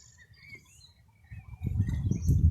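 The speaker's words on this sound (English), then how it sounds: "so peaceful with the birds, and there's a cool breeze" Birds chirp in a flower meadow, thin high calls and tweets scattered at a distance, with a low breezy rustle that grows louder toward the end.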